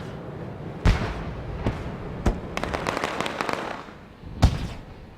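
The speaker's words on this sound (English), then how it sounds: "As the fireworks go off here" Fireworks bursting in an All Pro Sim Racing video game, with a few sharp, loud pops spaced apart and a stretch of crackling, sparkling bursts between them. No one speaks.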